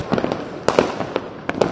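Firecrackers bursting before Diwali, a rapid string of sharp pops and cracks going off in irregular clusters, fairly close and loud, with no talk over them.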